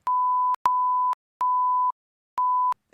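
Censor bleeps covering a spoken social security number during a podcast phone call: four steady pure-tone beeps, each about half a second long, separated by short gaps, loud and alone.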